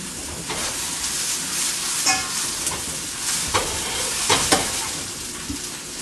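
Zucchini sizzling and frying in a pan while turned with tongs, a continuous close crackle with several sharp clicks and scrapes from the tongs, no voices.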